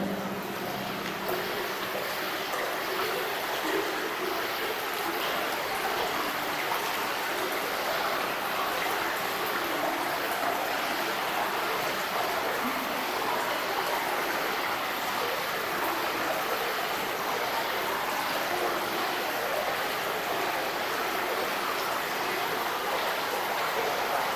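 Steady, rushing flow of water inside a road tunnel fills the space, a continuous broadband wash with a hollow, enclosed quality and no breaks.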